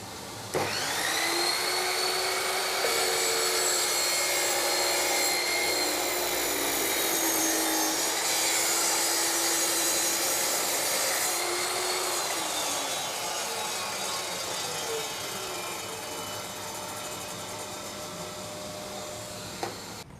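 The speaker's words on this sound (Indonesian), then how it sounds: "Saya menggunakan vacuum cleaner agar nggak terlalu berantakan ya untuk ininya." A 10-inch Bitec MSM1710 sliding miter saw whines at full speed through a 0-degree crosscut in wood while a shop vacuum runs alongside, a loud steady roar that holds for most of the cut before the blade spins down near the end.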